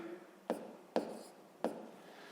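Chalk or marker writes on a board during a sixth-grade math lesson, three quiet, distinct taps and short strokes in an otherwise hushed room.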